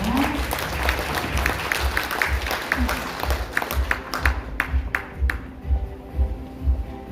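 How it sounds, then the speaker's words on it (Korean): An audience at a provincial carbon-neutrality committee appointment ceremony applauds, steady clapping that thins into scattered distinct claps toward the end, moderately loud and without talk. "큰 박수 부탁드립니다"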